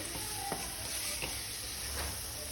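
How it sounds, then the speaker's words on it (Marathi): Fish pieces are stirred into fried masala in a pan, giving a steady soft sizzle with a few brief scraping strokes of the spoon, heard close and alone without talk. "आता हे छान असं मिक्स करून घ्यायचं आहे"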